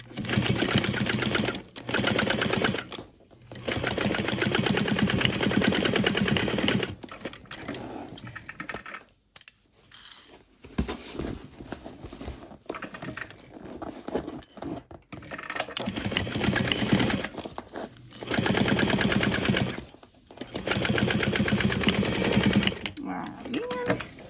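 A sewing machine stitches beside Decaville interfacing on a leather tote bag in long, loud runs broken by short pauses, with a voice talking between the runs.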